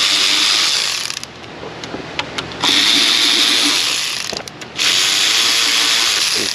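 Ratchet wrench clicking in quick bursts while running down and torquing bolts on a Chrysler 200 3.6 Pentastar engine, close and loud, with brief pauses between runs.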